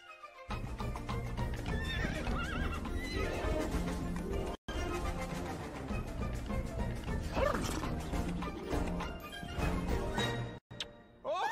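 Horses neigh and whinny repeatedly in the animated film Ferdinand, over a busy, loud mix with dog-like barks and clattering, nearly continuous throughout.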